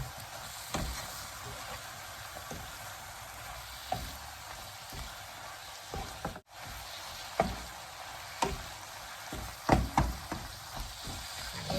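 Cabbage and pork stir-fry in a hot pan with a soft, continuous crackling sizzle. Sharp clicks and knocks from stirring come at irregular moments, some louder near the end.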